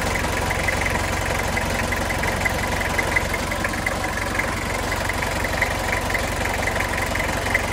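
A Toyota Kijang Krista diesel engine idles steadily, a constant low rumble with a faint rhythmic knock, heard from close by with no other sounds.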